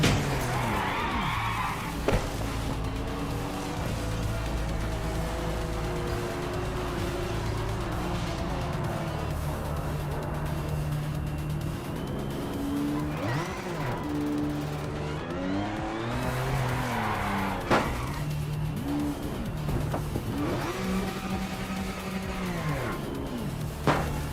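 Race car in the Project Motor Racing game, with a mid-engined car's steady engine drone running throughout, tire squeal and skidding rising at moments of a crash, loud and continuous.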